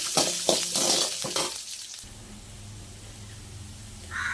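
Dry red chillies and coriander seeds roasting in oil, left over from frying urad dal, for a chutney: rustling, scraping stirs for about two seconds, then a quieter low sizzle with a faint clatter near the end.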